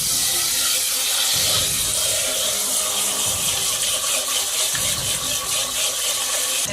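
Steady running tap water splashing into a bowl, with rice being swished and rinsed by hand; continuous and close.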